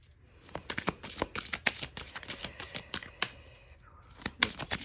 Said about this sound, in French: une carte à la fois, s'il vous plaît, Lévine.